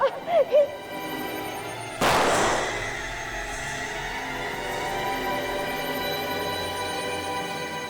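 A single loud gunshot in a Hindi TV crime drama rings out sharply after brief voices and is followed by a long fading echo and low tension music.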